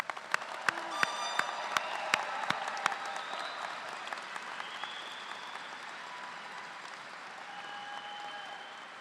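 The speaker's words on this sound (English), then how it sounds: "One more round of applause here." Applause at a college creative arts commencement ceremony, a large crowd clapping in a big hall, starting with some sharp nearby claps and then fading into a softer, distant wash.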